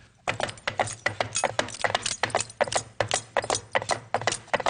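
Two people imitate a horse on a sound-effects show: hoof clip-clops tapped out in a steady walking rhythm, mixed with small metallic jingles standing in for spurs, close and fairly loud with no talking.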